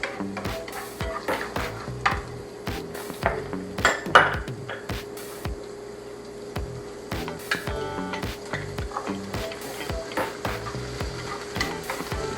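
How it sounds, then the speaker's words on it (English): Garlic and purple onions saute in a pan for a Thai tofu curry, giving a continuous low sizzle with frequent metallic clinks and scrapes from a utensil against the pan, close up and without speech. "I like to cook with purple onions, so I'm adding my purple onions"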